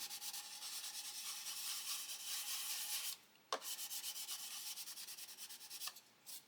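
Close, steady scratchy rubbing of fine sandpaper on a 1/72 plastic Airfix Vulcan model in quick back-and-forth strokes, with one brief pause partway through.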